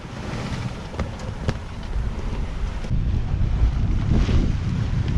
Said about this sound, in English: It's a lot calmer than it was this morning, even though it's a little bit more windy.